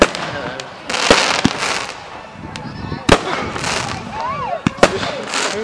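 Bonfire Night fireworks explode in sharp cracks and booms, some near and some distant, over a noisy outdoor crowd, with a whistling rocket and voices talking throughout.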